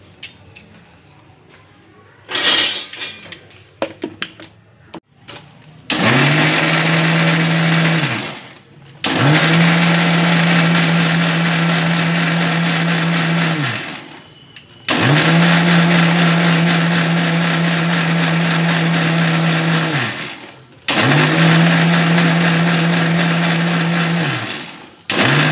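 Electric blender whipping two eggs with sugar, running in four long loud bursts of steady whirring with short pauses between, after some brief clinks at the start.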